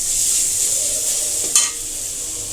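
Food stirred and frying in a pan during home cooking, with a continuous bright sizzle and one sharp scrape or clink of the spoon against the pan midway, close and without talk.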